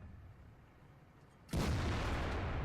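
A tank cannon in World of Tanks fires a single loud, sharp boom after a quiet stretch, followed by a sustained rumbling decay.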